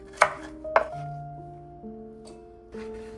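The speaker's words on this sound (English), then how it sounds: "Now slice the green part of the green onion and set aside." A knife slices green onion on a cutting board with a few sharp, separate chops spaced apart, close and clear over soft background music.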